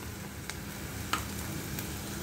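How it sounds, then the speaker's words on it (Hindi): Finely chopped onion frying in hot oil for achaari daal gives a steady close sizzle, with a couple of faint stirring clicks and no voices. "अब इसके अंदर डाल रहे हैं 1 बड़ा प्याज बारीक कटा हुआ। इसको गोल्डन ब्राउन होने तक भूनेंगे।"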